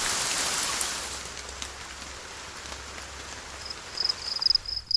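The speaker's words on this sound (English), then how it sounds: "rain," Rain falls steadily on a surface, a soft continuous patter with a few brighter drips and taps growing near the end.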